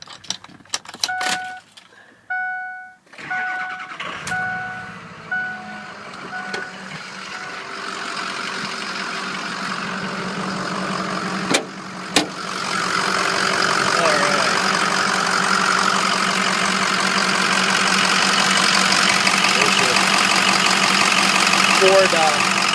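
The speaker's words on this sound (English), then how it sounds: "I'm going to fire it up, open the hood" Keys jangle, then a 2006 Ford F250 diesel pickup engine turns over and settles into a steady, rumbling idle heard up close with the hood open, with a voice talking briefly at the start.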